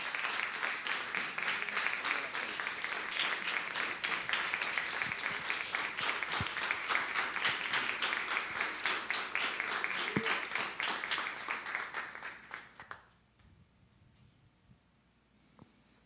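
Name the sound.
church congregation applause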